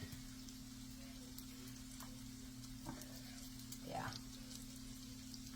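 Crab cakes frying in oil on an uneven stovetop, a soft continuous sizzle and bubbling with an occasional splutter, under a steady low hum and a brief spoken word.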